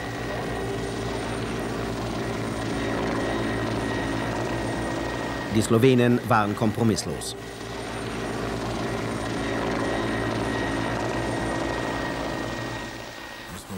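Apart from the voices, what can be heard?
military helicopter flying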